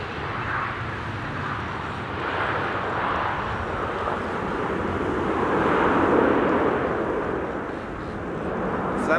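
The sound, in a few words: KLM Boeing 777-200 arriving at Amsterdam Schiphol Airport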